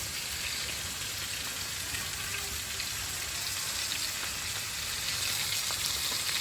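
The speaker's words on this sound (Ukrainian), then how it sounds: "Висипаємо сюди цибулю." Chopped onion frying in hot homemade pressed oil, a steady dense crackling sizzle, close and continuous, with no pauses.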